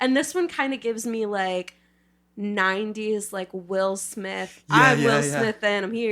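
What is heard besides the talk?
None of the usual background noises is heard.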